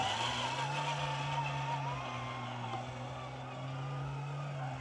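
A large vehicle driving through town, a steady close engine drone with constant low hum and road noise throughout, no clear talking.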